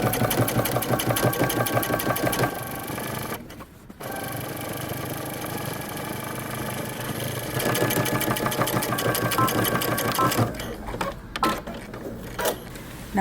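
A sewing machine topstitches the center front of a pair of jeans, a close, rapid mechanical chatter running in long bursts with short pauses between them.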